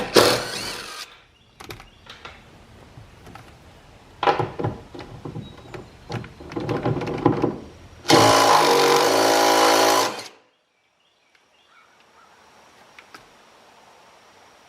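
An impact gun removing car seat bolts fires in several short rattling bursts, close by, with one longer sustained burst near the end before the sound stops.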